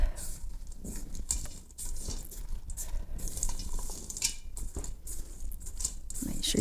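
Chocolate chips and pecans being folded into thick buttery blondie dough in a bowl: steady soft scraping and stirring with small clicks and taps, close and moderately quiet, continuing throughout.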